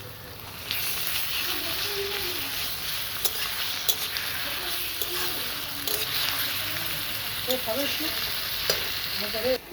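Garlic frying with onions in a kadai, with a continuous close sizzle and repeated scraping stirs throughout.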